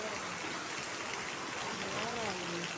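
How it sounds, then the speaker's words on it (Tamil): Heavy rain falls steadily in a continuous, dense hiss that fills the whole stretch, with a voice speaking faintly underneath. "எவ்வளோ மழையாக இருக்குது பாருங்கள்."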